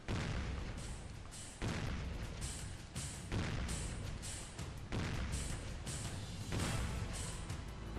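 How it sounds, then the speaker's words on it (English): Warship guns fire in the naval combat video game Warship Gunner 2, a series of about seven loud booming blasts spaced roughly a second apart, each with a sharp crack and rumbling tail. "I'm just gonna fire blindly over this mountain here, this hill."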